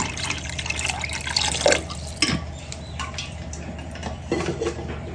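Water poured from a vessel into a large pot of beef seeraga samba biryani, giving a splashing, trickling pour with a few clinks of metal, close and fairly quiet.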